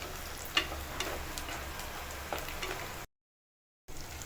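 Food sautéing in a pan at home, a soft continuous sizzle with a few faint ticks and stirring scrapes, broken by a short gap of total silence before the sizzle returns.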